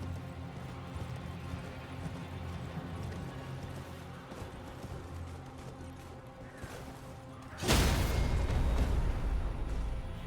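Horse hooves clip-clopping in the video game Elden Ring, a steady low rhythmic galloping under game noise, then a sudden loud crash as the rider is knocked off.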